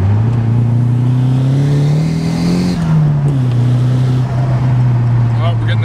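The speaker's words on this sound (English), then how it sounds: "So let's give it another listen to the car real quick." A Nissan S14 Silvia engine on its stock clutch rumbles loud and close, idling with a deep steady drone that rises briefly as the revs climb, then settles again.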